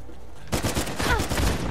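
Sniper and other gunfire in Uncharted 4 multiplayer: a burst of loud, rapid shots bursts in after a brief quiet start and continues as dense crackling fire with some game effects.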